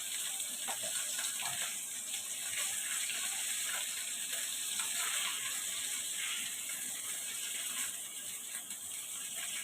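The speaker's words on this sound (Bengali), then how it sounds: "এই যে বাটা মাছের ফ্রাই ফ্রাই করা হচ্ছে" Bata fish frying in hot oil, a steady broadband hiss and crackle of sizzling that holds evenly throughout without talk.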